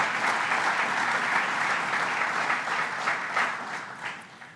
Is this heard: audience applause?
yes